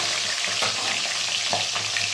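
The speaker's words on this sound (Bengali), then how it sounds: "মাছ ভাজাটা কাটিয়ে দিলাম মাছটা ভেজে মাছটা রান্না করবো" Fish frying in hot oil gives a steady, close, dense sizzle with small crackles and pops throughout, and no voices.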